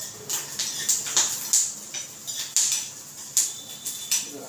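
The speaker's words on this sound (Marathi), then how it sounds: "आणि लसूण तडतडली," Garlic crackles as it roasts in oil in a pan for a Maharashtrian garlic-coconut chutney, giving a series of sharp, irregular pops and ticks close up, with no talk.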